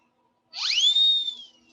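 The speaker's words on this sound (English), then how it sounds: "I love that whistle." A single clear whistle blast rises quickly in pitch and then holds a steady bright tone for about a second before fading, loud and alone.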